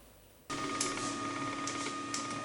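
A 3D printer at a Congolese university printing parts for the first Congolese-made ventilator runs with a steady mechanical whir, and thin motor tones start abruptly and hold at a constant, fairly loud level with no talk.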